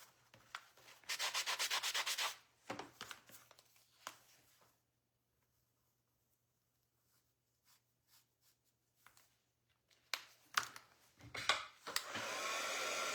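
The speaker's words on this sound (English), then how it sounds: "Oh, I got to sand it." Sandpaper rubbing over a small wooden DIY duck in close, scratchy bursts that stop for a long quiet stretch, then start again with quick strokes.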